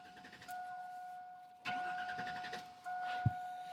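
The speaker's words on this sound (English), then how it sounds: "I got a broke down truck that makes a lot of noises." A broken-down truck cranks and its engine catches, rough and close, with rises in engine noise and a steady warning chime sounding in stretches over it.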